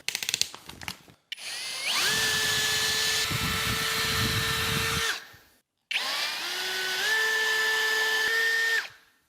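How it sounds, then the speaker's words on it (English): A power drill fitted with a piloting bit bores a pilot hole in wood for a lag screw while building an outdoor table, whining loudly in two long close bursts that rise in pitch as it spins up. "Now we need to replace this with our piloting bit."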